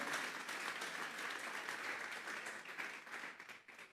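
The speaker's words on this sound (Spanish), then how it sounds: "Vamos a darle una ofrenda de palmas a Dios en esta hora" A church congregation gives an offering of applause to God during a service, steady moderately loud clapping from many hands that thins out toward the end.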